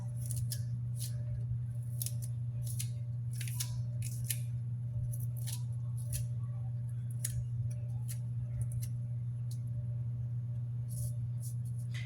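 A knife chops a washed scallion into tiny pieces on a board, giving quick, uneven light taps and clicks over a steady low kitchen hum, with no talking.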